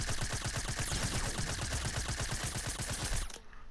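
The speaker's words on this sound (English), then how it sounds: "Oh, they're just shooting at it." Rapid automatic gunfire in a shooting video game, a dense stream of loud, evenly spaced shots that stops abruptly near the end.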